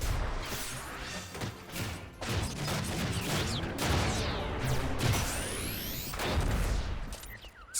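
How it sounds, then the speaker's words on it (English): Explosions and crashes in the video game Final Fantasy XI, a loud chaotic series of bursts, whooshes and impacts layered over game music, with sweeping effects late on. "Explosions!"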